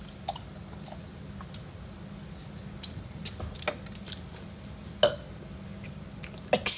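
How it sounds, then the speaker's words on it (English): A single short burp from a person who has just sipped water, faint against a steady low background hum, with a few other small mouth and body sounds around it. "I just burped."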